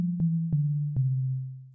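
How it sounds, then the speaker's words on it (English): A pure sine-wave synth bass from Ableton's Wavetable synth on its default waveform, played as a steady low sustained tone with three short note retriggers and a faint click at the very end, with no one talking. "I'll probably just keep it on a sine wave, so the default waveform."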